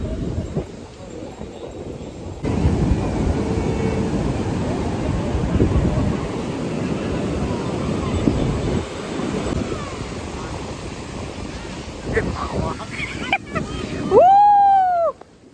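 Sea waves and wind roar at Puri beach, a loud, continuous broadband rush close by, with a brief high whistle-like sweep near the end.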